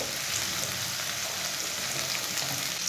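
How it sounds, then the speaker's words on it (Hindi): Steady sizzling of chopped garlic and onion browning in a hot pan, an even continuous frying hiss with no talking. "सब्ज लहसुन, सब्ज लहसुन और सब्ज प्याज को दोनों को ब्राउन कर लेंगे।"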